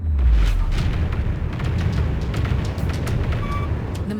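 Heavy space-battle explosions as the mothership takes fire in the strategy game Homeworld 3, a continuous loud rumble of deep booms and bursts layered over each other, with no voices over it.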